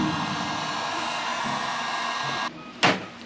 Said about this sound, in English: trying to heat up the adhesive to finally get this thing off